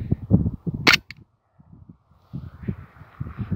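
Airsoft pistol fired at a 50% infill PETG 3D-printed test piece, a single sharp snapping shot and impact near the start, surrounded by quiet handling rustles and thumps.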